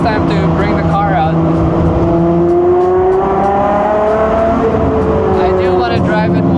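A Mazda Miata ND with carbon parts drones steadily from inside while driving, its engine note rising and falling through gears and loud throughout.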